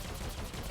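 Lethal Shot sniper ability fired in Star Wars: The Old Republic, a dense, loud burst of blaster-like gunfire packed into under a second with no talking.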